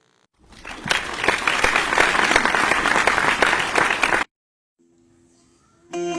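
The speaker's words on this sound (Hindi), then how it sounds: "स्वागत करी जाओ जोरदार ताली से" Applause welcomes a poet at an online Magahi poetry evening: a burst of clapping swells and holds steady for about four seconds, then cuts off abruptly into near silence.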